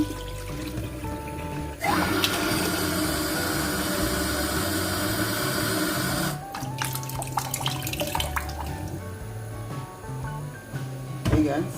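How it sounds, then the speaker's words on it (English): Tap water runs steadily over rice being washed in a kitchen, a loud broadband rush for several seconds that then breaks into splashing and intermittent trickles as the flow changes. "I'm just washing the rice to parboil."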